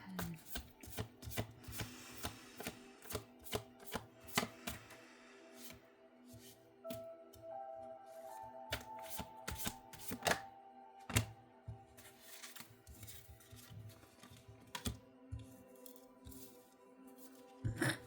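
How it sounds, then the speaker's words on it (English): A tarot deck is shuffled by hand up close, with faint, irregular taps, slides and soft riffles repeating over a quiet room and no talking. "Okay, I'm gonna shuffle some more."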